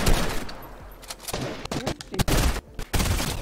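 Rapid bursts of gunfire in the video game Fortnite, irregular volleys of sharp shots near and loud, packed into a few seconds.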